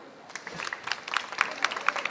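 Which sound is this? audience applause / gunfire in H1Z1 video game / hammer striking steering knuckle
audience applause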